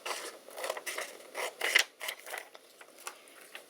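Scissors trim a cut piece for a Halloween skeleton sweatshirt at a crowded craft desk, producing a handful of quiet, close, crisp snips and rustles in uneven bursts with short pauses between them.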